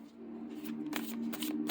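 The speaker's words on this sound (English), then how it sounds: "So let's shuffle it though." A thick tarot deck is shuffled by hand, a run of crisp papery riffling bursts, close and fairly loud over a faint steady hum, with no talking.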